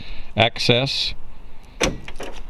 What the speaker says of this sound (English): Door opens like that.